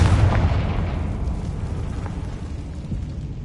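Confringo spell explosion in Hogwarts Legacy: a loud, broadband blast at the start that decays into a long rumbling tail, with the boom fading gradually over a few seconds and no talking.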